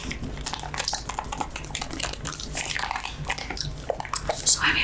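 Close, wet gum chewing with sharp little snaps and crackles in an uneven rhythm, with occasional soft voice sounds mixed in.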